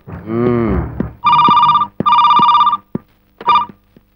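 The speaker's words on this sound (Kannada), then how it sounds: "ಫೋನ್ ಬಂತು ನೋಡಿ." An old telephone rings in two long electronic bursts and a shorter third, preceded by a drawn-out low lowing call, loud and close.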